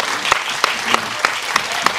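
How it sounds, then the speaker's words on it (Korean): Applause from the audience at a Korean film festival screening talk, thin and steady with a few sharper claps standing out at intervals. "박수 한 번."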